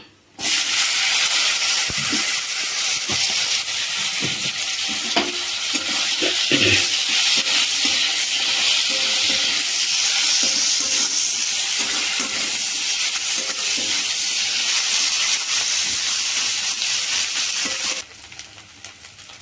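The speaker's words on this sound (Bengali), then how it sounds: "এবার শুকু মাছগুলো ভাজা হয়ে গেছে" Dried fish (shutki) sizzle and hiss in a hot pan, a loud continuous frying crackle with occasional scraping stirs, no talking.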